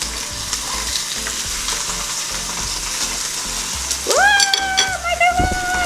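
Sirloin and ribeye beef steaks sizzle steadily on a grill, a close, continuous frying hiss, with a brief squeaky scrape or clatter near the end.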